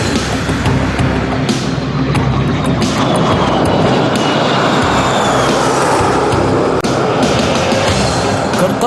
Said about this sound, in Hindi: फ्लाई पास्ट में वायुसेना के 29 लड़ाकू विमान, 8 मालवाहक विमान, 13 हेलीकॉप्टर और एक धरोहर विमान सहित कुल 51 एयरक्राफ्ट दिखाएंगे आकाश में साहसिक करतब।